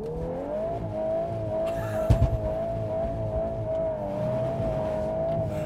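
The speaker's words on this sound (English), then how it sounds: "2022 Volkswagen Golf R with launch control." A 2022 Volkswagen Golf R does a launch-control start on an ice track, its engine droning at a steady high pitch with a rising tone, plus a brief thump partway through.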